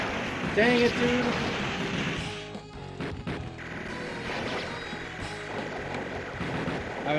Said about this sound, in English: when you power up the plane.